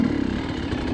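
An enduro motorcycle engine is revved hard with throttle and clutch, a brief rough, buzzing roar held at steady loudness close by, with no voices.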